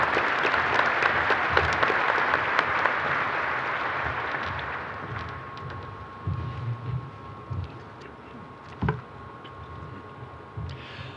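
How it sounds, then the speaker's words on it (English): A large audience claps loudly at the 2024 Air Force Institute of Technology commencement ceremony. The applause is dense at first and then thins after about five seconds into scattered, quieter claps. "Ladies and gentlemen, one more round of applause for Dr."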